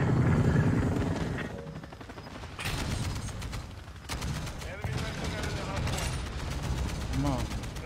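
Chopper gunner helicopter firing in Call of Duty Modern Warfare 2: dense, continuous bursts of automatic gunfire and explosions over a steady rotor drone, loud and close throughout, with the barrage thickening after a short lull.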